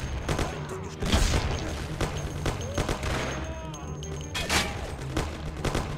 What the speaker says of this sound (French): j'essaye d'être précis avec un Thompson